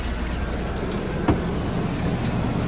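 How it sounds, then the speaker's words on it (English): Hot water runs from the faucet inside a 2020 Lance 650 camper, a steady close rushing stream with one brief splash or clunk partway through, no talking. "Start the water."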